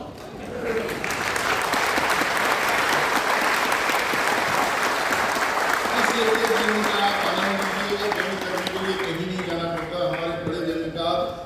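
Loud, sustained applause from a large crowd at a Hindi comedy poetry gathering, continuous clapping that swells and holds for several seconds.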